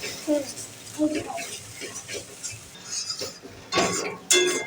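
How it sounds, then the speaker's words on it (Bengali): Spice masala with chili powder stirred in a pan, soft frying sizzle with intermittent clinks and scrapes of a utensil against metal, fairly quiet and close, a few louder scrapes near the end. "এগুলো দিয়ে একসঙ্গে ভালো করে নাড়াচাড়া করে মশলাটা আরও ভালো করে নিতে হবে"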